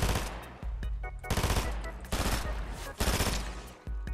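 Rapid automatic gunfire rattles through a video game shootout, loud dense bursts broken by brief pauses and single shots, with occasional faint talk underneath.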